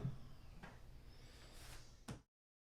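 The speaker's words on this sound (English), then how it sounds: "And they really help suppress the noise of the drawer closing." A cabinet drawer fitted with bumper pads slides shut with a few soft, muffled knocks and a final quiet thump, close by and otherwise still.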